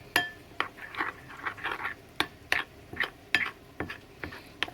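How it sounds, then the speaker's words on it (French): Spoon stirring crème fraîche and cornstarch together in a bowl for mini quiches, with a steady series of close clinks and taps against the bowl between soft wet scraping, and no talk. "vous pouvez mélanger le tout ensemble"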